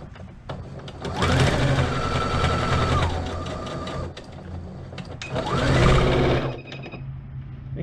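Sewing machine stitching a fabric scrunchie, two runs of fast mechanical whirring, each rising and settling, with brief pauses and a few clicks between them.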